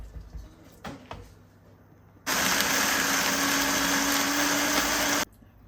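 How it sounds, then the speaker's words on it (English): A blender whirs steadily for about three seconds while blending pitted dates in orange juice for homemade barbecue sauce, loud and constant, starting and stopping abruptly after soft kitchen clatter. "And then I'll put the lots of these into the blender."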